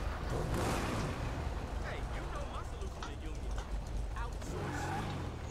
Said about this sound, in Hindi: चलो यार, एक बार मैं आपको दिखा देता हूँ फायरिंग कैसी है इसकी।